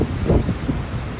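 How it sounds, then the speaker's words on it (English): Strong gusty wind in a New York City snowstorm roars against the microphone, a loud, low, continuous rumble with no voices. "It's a lot more windy than yesterday."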